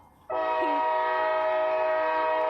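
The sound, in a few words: train passing with horn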